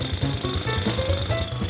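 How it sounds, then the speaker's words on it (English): Rapid mechanical hammering of a cartoon jackhammer at a construction site pounds steadily over a high electronic ringing tone, continuous and close. "I'll turn off that jackhammer."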